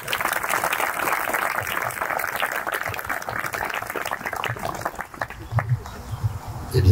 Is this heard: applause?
yes